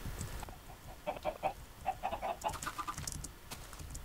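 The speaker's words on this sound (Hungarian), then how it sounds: "Sok itt a csirke" Chickens cluck in a rapid run of short, close calls over a rough background noise, fading toward the end.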